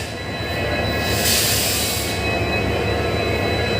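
A local passenger train from Guwahati to Nagaon makes a loud, continuous rumble of wheels on the rails with a steady roar and a brief swell of higher-pitched rushing noise, without any talking.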